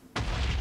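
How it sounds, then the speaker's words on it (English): A creeper blows up in the Minecraft video game, a sudden loud boom that keeps roaring through the short moment without any talk. "I just had a massive explosion. I'm pretty sure a creeper just blew up behind me."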